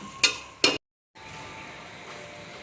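Onions frying and being stirred in a pan while veg rice is cooked in a village setting. Two quick, loud scraping strokes come first, then a short silent gap, then a faint, steady sizzle.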